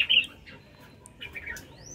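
Red-whiskered bulbul, a wild-caught adult bird of the northwestern highlands, gives a few bright, fairly close calls, a loud burst at the start and a softer run of notes near the end, over a quiet background.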